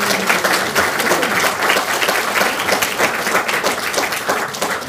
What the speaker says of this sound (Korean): 의원 여러분들께서 박수로 추인해 주실 것을 부탁드립니다.